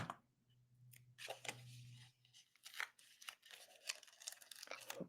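Scissors cutting paper in half for a junk journal, several quiet crisp snips and rustles close by, irregular and faint, without speech.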